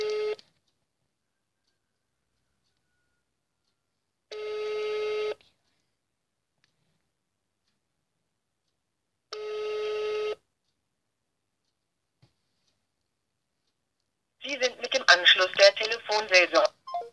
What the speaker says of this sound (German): Jetzt rufe ich an der zweiten Nummer an.